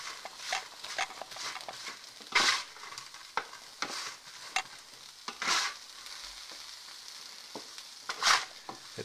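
Broccoli and tater tots sizzle and crackle in a hot pan, with several louder scraping turns as the pieces are flipped over, close and steady with no talking.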